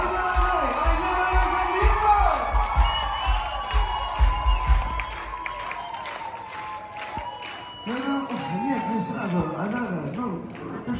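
A concert audience in a Ufa youth palace hall breaks into loud applause and cheering with music playing, shouts rising from the crowd, then the clapping thins as a voice begins speaking.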